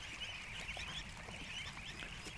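Ducks with goslings scattered around a backyard clothesline stand keep up a short burst of faint quacking and chirping peeps over low background rumble, with nobody talking.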